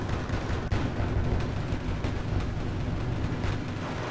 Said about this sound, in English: So immediately we get artillery support in on that